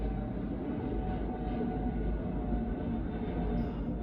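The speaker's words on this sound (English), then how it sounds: "the airplane sound is so loud" A loud airplane flying overhead gives a steady, heavy low roar that fills the whole stretch without letup.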